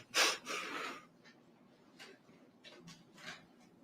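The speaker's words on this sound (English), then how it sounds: "What are those loud sniffs?" Loud sniffs and breathy snorts in a quiet courtroom during a murder trial, one strong burst near the start followed by several fainter, spaced sniffs against a low room hum.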